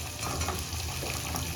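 Purple edible gum (gond) fries in hot oil for adadiya pak, giving a steady soft sizzle and crackle that stays close but fairly quiet, with no voices.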